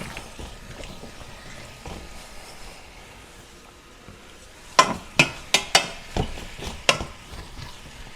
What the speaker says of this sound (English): And I stir often so that the bottom doesn't cook and the top stays uncooked.